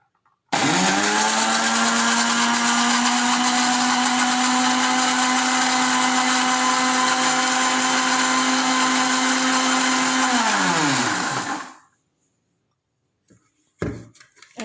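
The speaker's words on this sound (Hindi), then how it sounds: "ब्लेंडर का ढक्कन लगा दें और चलें इसको ऑन करते हैं।" A blender whips egg and vinegar as the base for garlic mayonnaise, giving a loud, steady motor whine that holds for about eleven seconds before winding down and stopping; a few faint knocks follow.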